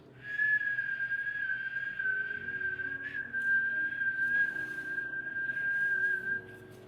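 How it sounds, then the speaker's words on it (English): A person whistles a single sustained, steady high note to call a pet cat that comes like a dog, held for about six seconds over quiet room noise, then stopping. "My whistle."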